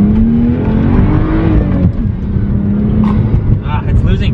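A BMW 135i with the N55 engine, tuned for more boost, accelerates hard and loses traction, its engine note rising and then dropping and climbing again, loud and close throughout, with a voice speaking over it.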